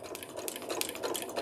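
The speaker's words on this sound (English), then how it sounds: "now your sewing machine is gonna go forward, backwards, and forward again, and we're sewing right along this line" A domestic sewing machine stitches along a line, running forward, reversing, then forward again; a dense, steady mechanical whir with rapid needle clatter fills the short stretch at close range.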